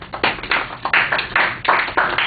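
A classroom audience gives a short round of applause for a student's presentation, a few seconds of steady, moderately close clapping with uneven bursts and no talking over it.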